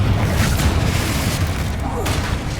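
A Confringo fire spell exploding in the Hogwarts Legacy game, a loud booming blast with a rolling low rumble and crackling burst that stays dense and heavy throughout, mixed with other combat noise.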